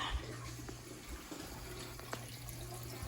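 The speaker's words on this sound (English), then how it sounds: "while that's filling, I don't have the water on full force yet" A toilet tank refills through a newly installed Fluidmaster fill valve on a Mansfield toilet, the water supply not yet fully open, producing a steady low hiss and trickle of running water with a few faint clicks.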